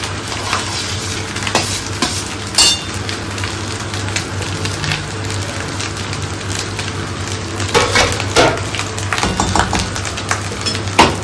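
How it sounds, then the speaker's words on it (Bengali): Garlic rice frying in a pan, with steady sizzling and crackling throughout and an occasional spoon scraping and stirring close by. "এবার ভাতটা দিয়ে দিচ্ছি। এক ধরনের গার্লিক রাইস এটা।"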